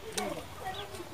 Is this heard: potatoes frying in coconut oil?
no